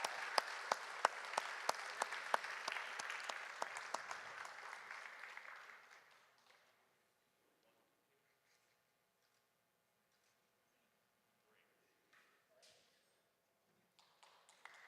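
Applause from the audience at a student film festival awards ceremony, with crisp, close claps for about six seconds before it stops abruptly, leaving near silence and a few faint sounds.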